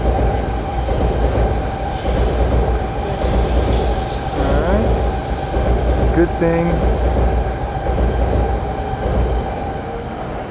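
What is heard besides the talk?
long train passing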